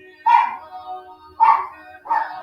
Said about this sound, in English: as the dog barks.